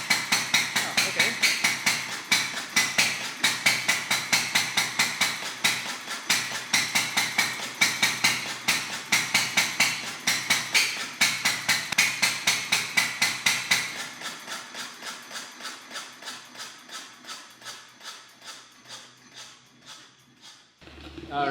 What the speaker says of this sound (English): That's all the steam coming from the engine already.